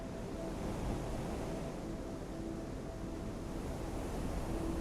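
Ocean waves wash steadily onto a beach, a continuous broad roar of surf with some wind, even in loudness throughout and with no voices.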